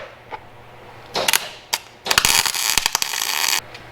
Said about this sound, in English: we're just gonna tack weld this in place right now